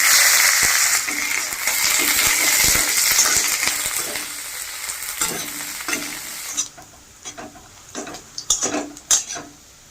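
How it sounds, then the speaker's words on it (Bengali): Onions sizzle loudly in hot oil with cumin and bay leaf at first, then a spoon scrapes and clinks against the pan as the frying quiets down. "পেঁয়াজটা ভাজা হয়ে গেছে"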